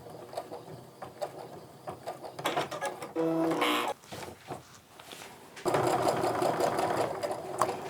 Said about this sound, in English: And I'm just sewing right on that line that we drew.